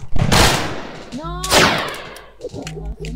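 Bursts of gunfire from the Shape Shooter 2 video game crackle loudly in two quick volleys, followed by lighter rapid shots, with sweeping synthetic effects in between.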